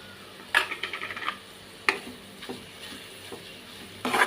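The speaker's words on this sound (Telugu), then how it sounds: "కారం కూడా వేసుకుని బాగా కలుపుకున్నాం" Chili powder being stirred into fish frying in a pan, with scattered scraping strokes of a spoon against the pan over a soft sizzle, several sharp clinks standing out.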